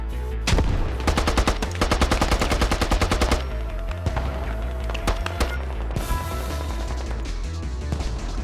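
Rapid automatic gunfire in the military shooter Squad, update 4.0, with a fast run of close, loud shots followed by scattered single shots and distant firing in a battlefield setting.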